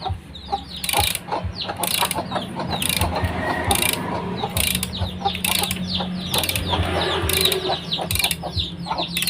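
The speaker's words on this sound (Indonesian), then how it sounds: "Dengar ya kawan-kawan, bunyi ketak-ketak itu." A Mollar B11951 1/2-inch torque wrench (40–210 range) set to 40 Newton meters gives a run of sharp, repeated ratcheting clicks at a fairly even rhythm, with chickens clucking in the background.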